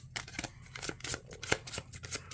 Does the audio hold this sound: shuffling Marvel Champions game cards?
yes